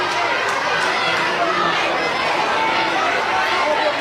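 At a college softball game between Oklahoma and Florida State, the crowd keeps up a steady murmur of chatter and voices that swells slightly, a broad stadium buzz with no single shout standing out.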